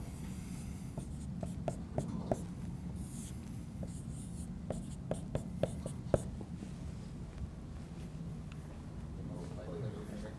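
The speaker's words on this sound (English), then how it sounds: "I'm going to write down the next line." Pen or pencil writing out a line of math working with fractions, a steady close scratching run with small sharp taps scattered through it, faint under a quiet room hum.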